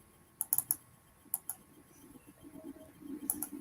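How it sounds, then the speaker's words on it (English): Sharp clicks of typing on a computer keyboard come in short bursts, a few quick keystrokes, then a pause and more clicks, with faint background hum. "You don't leave any space when you are typing on it."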